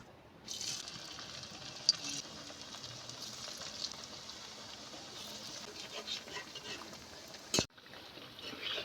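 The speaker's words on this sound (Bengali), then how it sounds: "বাকিগুলো ভেজে নিই" Fritters made from raw green banana peels fry in hot oil with a continuous soft sizzle and hiss that holds steady for several seconds, broken near the end by one sharp clatter.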